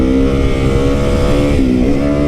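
A lightweight 450 supermoto motorcycle engine runs loud and close, a steady throaty drone with a brief dip and rise in pitch partway through, heard alone.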